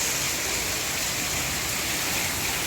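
Heavy rain pours down in Bengaluru as a dense, unbroken hiss, loud and steady throughout with no talk.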